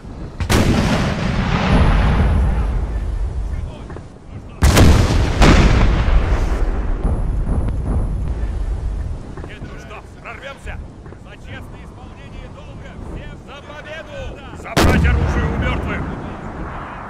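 Booming artillery blasts and crackling volleys of musket fire in Napoleon: Total War, several heavy detonations in bursts with rumbling battle noise between, loud and close, with shouted voices mixed in.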